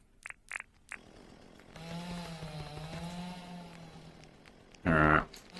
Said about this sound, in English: there's my chainsaw